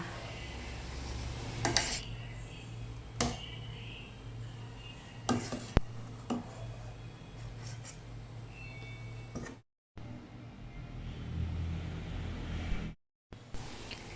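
Utensils scooping banana pieces and arranging them in a mould, giving scattered scrapes, clinks and taps against the container over a low steady hum, close and fairly quiet.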